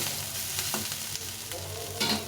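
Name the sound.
frying cauliflower in a little oil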